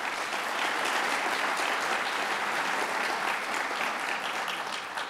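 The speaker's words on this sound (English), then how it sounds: "Let's give him a big round of applause" A university hall audience gives a round of applause for the mayor during a governor's speech, a thick, continuous roar of clapping from many people that holds steady throughout.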